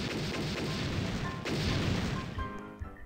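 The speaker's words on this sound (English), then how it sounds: "It makes like explosion sound effects." Booming explosion sound effects from a Roblox quicksand game, a dense continuous rumble of blasts and crashes that swells midway and then thins out near the end.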